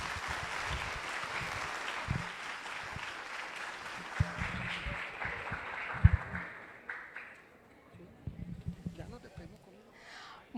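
An audience at an academic education, arts and humanities congress claps, a broad wash of applause that thins and fades out toward the end, with voices murmuring underneath.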